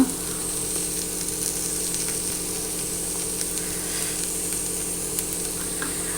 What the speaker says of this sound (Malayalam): ഈ കുറച്ച് ഗ്രീൻ ചില്ലി സോസ് ഒഴിച്ചു കൊടുക്കുന്നുണ്ട്